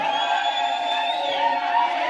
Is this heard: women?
yes